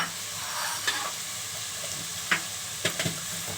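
Onions frying in a pan for halwai-style puri chana, a steady sizzle running throughout with a few sharp clinks and scrapes as the spoon stirs them, close and moderately loud.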